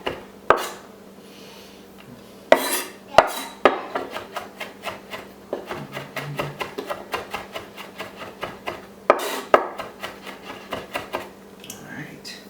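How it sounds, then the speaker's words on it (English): Garlic and ginger mixed together on a cutting surface while prepping pork fried rice: a steady run of short scraping, rubbing taps repeats through the whole clip, with a few louder knocks, close and fairly quiet. "mix this garlic and ginger together here"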